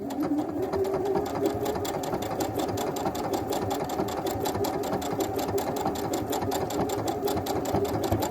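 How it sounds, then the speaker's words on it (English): A sewing machine stitches an Orange Pekoe quilt block with a continuous, close, rapid rhythmic whir. The fast, even needle pulses run without pause at steady volume throughout. "let's go ahead and start sewing this"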